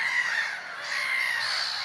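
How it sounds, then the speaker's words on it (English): Black-headed gulls calling at a shore hide on the coast, a dense, continuous clamour of harsh, high cries filling the air close by, with no talk. "being deafened by the black-headed gulls"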